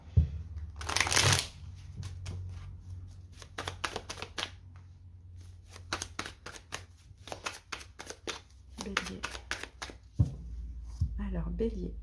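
A deck of tarot cards is shuffled and cut, giving rapid riffling bursts and flicking card snaps in quick runs, close up, with a person talking between and over them.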